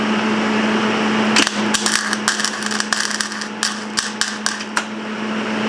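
A Millermatic 130XP MIG welder runs with a steady electrical hum under broadband hiss, broken by a series of sharp crackling pops and bursts that come irregularly throughout.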